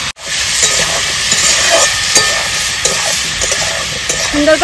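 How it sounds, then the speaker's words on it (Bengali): Potato and pointed gourd frying in a pan with whole cumin, salt, turmeric and slit green chilies, giving a loud, steady sizzle with occasional scrapes of stirring and no voices. "ফোড়নে দিয়ে দেবো গোটা জিরে, দিয়ে দেবো কেটে রাখা আলু পটল, লবণ, হলুদ গুঁড়ো, কয়েকটা চেরা কাঁচা লঙ্কা, সুন্দর করে ভেজে নেব।"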